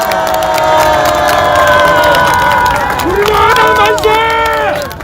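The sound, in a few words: crowd applause for party leader and leadership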